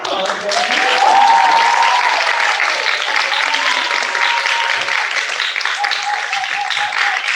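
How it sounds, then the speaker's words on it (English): Sustained audience applause at a 2021 graduation ceremony for El Instituto de Mandevilla, a dense steady wash of many hands clapping that holds evenly from start to finish, with a voice briefly rising above the crowd. "Give me applause."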